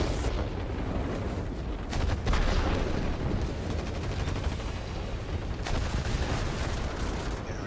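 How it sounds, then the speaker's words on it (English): Rockets and gunfire from a LAGG-3 multirole fighter in the World of Warplanes video game, a dense, continuous barrage of rapid gun bursts and booming rocket impacts with louder surges, heard alone without talk. "let's send some rockets in down here"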